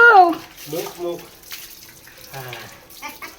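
Water poured over a child at bath time, splashing and running in short bursts while voices talk over it, the pouring close and fairly loud.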